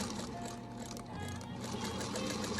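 A sewing machine stitches a narrow seam to close up a quilt, running as a steady close mechanical whir with a faint rhythmic clatter and no talk.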